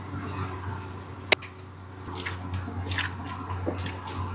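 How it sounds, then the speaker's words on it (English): A grease gun with a needle attachment is used on a flush-mount suspension joint of a Ford Bronco. One sharp click is followed by soft, wet squishing and pumping noises up close. "Now I'm going to be greasing this top joint right here."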